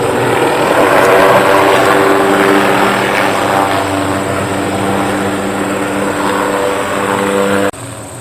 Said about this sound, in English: I believe that's an equitable gas helicopter